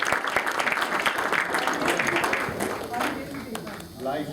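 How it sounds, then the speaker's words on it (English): Audience applause at a UK awards evening, a steady dense wash of clapping from a room full of people that carries through to the end, with some voices and crowd noise mixed in underneath. "So a big round of applause for Rajiv."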